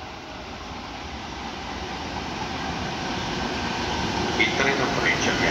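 A Frecciabianca passenger train pulls into a station platform on Italy's Adriatic line at Riccione, a steady low rumble and rolling rail noise building gradually, with faint squeals and clanks toward the end under an announcement voice.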